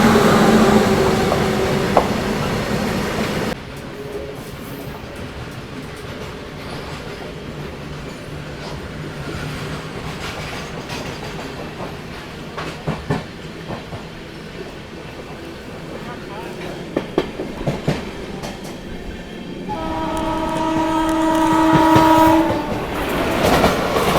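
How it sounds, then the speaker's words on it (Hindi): A goods train rolls past Bhagwa Road railway station, starting with a loud horn, then a long steady rumble and clickety-clack of wagons, ending with another sustained multi-tone horn close by. "मालगाड़ी है भाई, ये तो गुड्स ट्रेन है"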